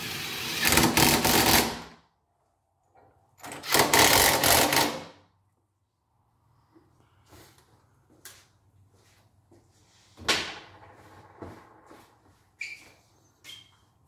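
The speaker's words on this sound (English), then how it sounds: "I have a 19 millimeter socket that I use to get these tightening fixtures down" A 19 mm socket tightens the fixtures on a Comec RP 900 milling machine table, giving two bursts of rapid ratcheting clicks early on, followed by scattered lighter metallic taps and clinks over a low hum.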